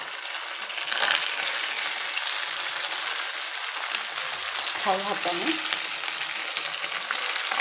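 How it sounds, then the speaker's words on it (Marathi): Sabudana vada patties frying in hot oil in a pan over low heat, a steady close sizzle with brief soft talk partway through. "आपण ह्या टिक्क्या ज्या आहेत त्या फ्राय करूया तेलामध्ये."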